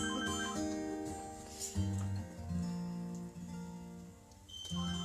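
A telephone rings during a home concert broadcast, producing a sustained melodic tone pattern of stepped pitches that repeats at moderate volume, heard alone without talking.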